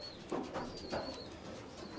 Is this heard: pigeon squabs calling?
yes